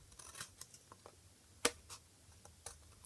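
Scissors cutting paper for iris folding: a string of small snips and ticks, faint and close, with one sharper louder cut in the middle.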